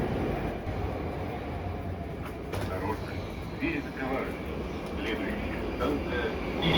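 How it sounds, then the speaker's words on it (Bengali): A modern Moscow metro train pulls out of a station, a loud rolling rumble of wheels and carriages with clanks and squeals rising over the noise of the platform. "এই যে মেট্রোটা চলে যাচ্ছে"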